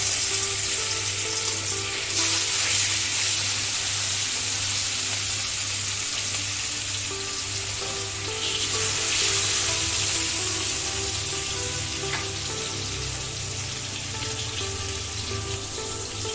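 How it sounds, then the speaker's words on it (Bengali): Hilsa fish pieces fry lightly in hot oil in a pan, giving a steady, close sizzle throughout with a few brief crackling flares and a low hum underneath. "এবারে আমি মাছগুলো ভেজে নেব।"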